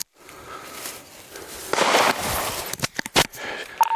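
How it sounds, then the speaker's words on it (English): Sharp gunshots ring out near police officers at a residential scene, a cluster of loud cracks and pops arriving in quick irregular bursts over a steady background hiss. "Shots fired."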